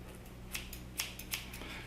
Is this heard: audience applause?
no